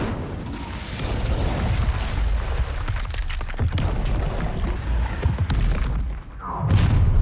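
Incendio fire spell cast in Hogwarts Legacy, a loud whooshing, booming burst of flame with crackling magical effects, continuous over several seconds amid game sounds.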